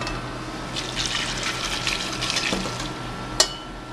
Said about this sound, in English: Okay, our pasta's cooked. We're going to strain this.